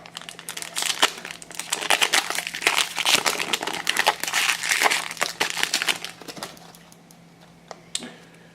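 A plastic wrapper on a Magic: The Gathering Dragon's Maze intro pack crinkles and crackles up close in dense, irregular bursts that thin out near the end.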